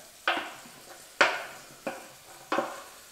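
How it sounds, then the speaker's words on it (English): Roasted squash is spooned into a hot, sizzling pan in four distinct scoops, each a sharp clatter and splat followed by a short hiss of frying; close and fairly loud, with no talking. "I'm just going to get a spoon and I'm going to pop that into our pan."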